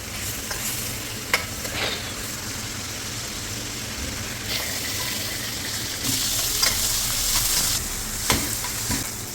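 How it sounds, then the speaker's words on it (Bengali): Prawns fry lightly in a hot pan with a steady, close sizzle, broken by a few sharp scrapes and stirring knocks, the hiss swelling louder toward the end. "চিংড়ি মাছ রেডি। ওই আম্মু, এটা আমরা হালকা একটু ভাজবো"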